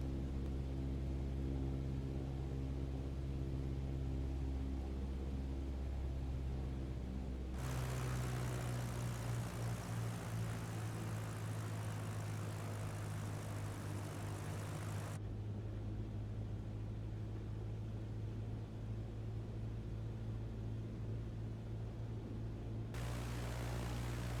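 Steady drone of a light single-engine propeller airplane's engine at reduced power on a descending landing approach with carb heat, heard continuously from inside with shifting cabin noise and no talk.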